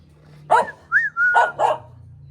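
A dog barks four times in quick succession, close and loud, the yelps short and slightly whiny.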